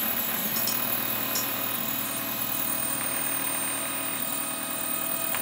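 Stepper motors on a DIY 3D printer and mill run at 12.5 volts and give off a steady, slightly rough mechanical whine with a low hum. The sound is continuous and fairly close, with no talking.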